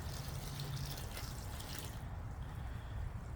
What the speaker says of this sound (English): but let me pour some water in it.